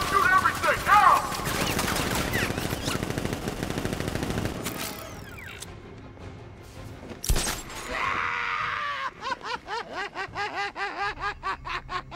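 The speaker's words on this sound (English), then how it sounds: "Open fire! Shoot everything, now!" Batman: Arkham Knight video game gunfire starts as a dense, loud burst of rapid shots. A shattering crash and quieter mechanical sounds follow, then a rhythmic pulsing sequence, with some voice and laughter mixed in.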